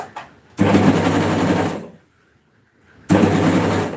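A sewing machine stitches the armpit seam at the end of a garment sleeve in two steady runs, the first about one and a half seconds and the second about one second, with a short quiet pause between them.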